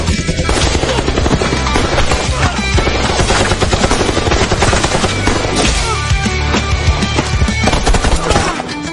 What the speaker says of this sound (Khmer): បាញ់ទៅកុំឈប់បាញ់ឲ្យអស់ហ្មង